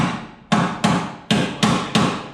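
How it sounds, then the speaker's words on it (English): Five loud, evenly spaced hammer blows on a metal car body panel, each ringing briefly before the next strike, close by. "That's the wrong hammer for body work."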